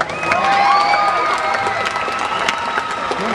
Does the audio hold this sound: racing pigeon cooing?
no